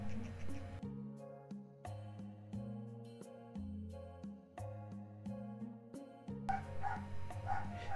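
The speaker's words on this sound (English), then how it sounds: "Woof woof woof. Woof woof woof." A dog barks in the Tales of Vesperia video game, its repeated yips and woofs set under a steady looping game music track that stays fairly quiet throughout.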